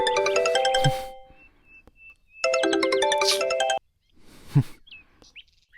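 A mobile phone plays a chirpy, bird-like electronic ringtone indoors in a Tamil drama scene. Two bright melodic bursts ring out with a pause between them, followed by quieter rustling and faint sounds.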